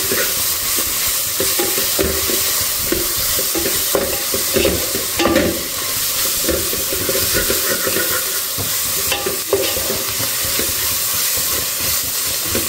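Ingredients for fenugreek dal frying in a pan, a loud, steady sizzle with bursts of stirring and scraping running the whole way through, no voices.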